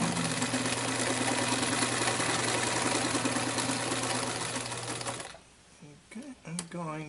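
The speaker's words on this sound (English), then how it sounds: "I'm going to sew forward and back just slightly, and that'll lock my stitch in there" A sewing machine runs a steady, continuous stitch through a denim pouch for about five seconds, then stops, and a brief voice follows.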